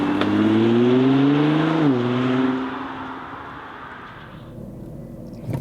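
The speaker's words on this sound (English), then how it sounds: "That's a Nissan GTR. And in this driving part, we'll start with a short Autobahn ride." A Nissan GT-R with a 570 hp engine accelerates on the Autobahn, its loud rising engine note climbing through gears with one shift, then easing into a quieter cruising roar.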